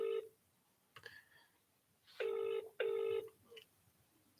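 An unanswered outgoing phone call rings back as two steady, evenly spaced tones over a faint murmur of voices, quiet and a little distant.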